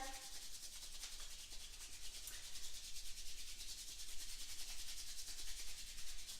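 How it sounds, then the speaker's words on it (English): Two hands rub together quickly during a yoga session, a soft, continuous dry swishing friction that stays close and even throughout without a break, with no talking. "Bring your hands together and begin to rub them. Rub them, bring some heat, some friction here. Rub them a little faster."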